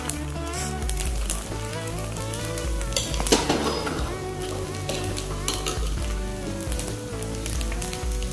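Spinach dosa batter made with balloon vine leaves is poured onto a well-heated stone griddle and sizzles in a continuous hiss close by, with faint scraping and a tonal background layer.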